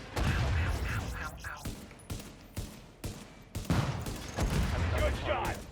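Rapid bursts of gunfire in The Division, including pistol shots during an incursion firefight, crack out in close, irregular volleys, with short pauses between clusters of shots.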